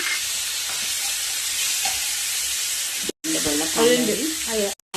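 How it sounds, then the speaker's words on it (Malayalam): Chopped onion, tomato and green chili sauté in a pan for a pasta dish, a loud continuous sizzle with stirring, briefly cutting out, then a voice speaking over the frying near the end. "അത് കട്ട് ചെയ്തത് എല്ലാം നല്ലോണം വഴറ്റി കൊടുക്കാം"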